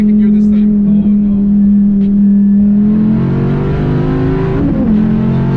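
A car accelerating in second gear on a ride-along with police, its engine holding a steady loud drone before revving higher, with a person speaking over the motor.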